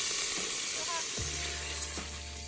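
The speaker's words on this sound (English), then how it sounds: "Then I'm gonna add 1 cup of our Marsala Cooking Wine." Marsala cooking wine hitting a hot pressure cooker pot after searing chicken, giving a sudden loud sizzle that starts partway through and holds steady under a steam-like hiss.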